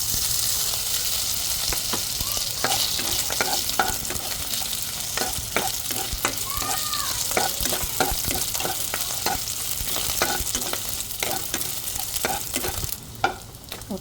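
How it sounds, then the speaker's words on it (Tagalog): Hotdogs sautéing in hot oil for pancit canton, a steady crackling sizzle throughout with repeated scraping clicks of stirring, close and fairly loud, no talk. "So magpainit na tayo ng oil guys at igisa natin ang ating hotdog"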